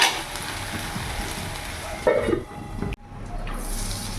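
Taro leaves with shrimp sizzle and fry in a pan on medium heat, a steady crackling hiss broken by scraping stir strokes and a brief clatter of the utensil.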